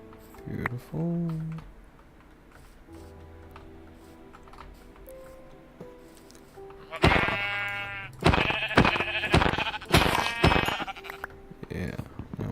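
Blocky sheep in Minecraft bleat a few times amid rapid keyboard typing and clicking, with faint in-game ticks; the bleats are brief and mid-level under the busy key noise.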